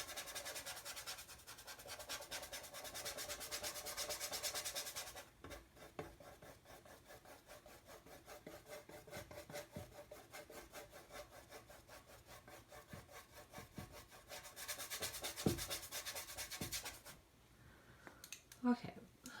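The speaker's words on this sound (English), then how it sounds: "I'm just going to rub some oleo gel in here." Brush or cloth rubbing oleo gel onto an oil painting surface, a steady scratchy rasping that swells louder near the start and again toward the end, with faint talk underneath.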